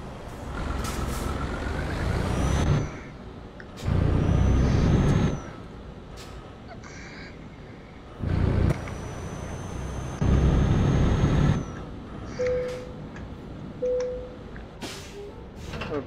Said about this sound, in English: This is my Mercedes-Benz truck.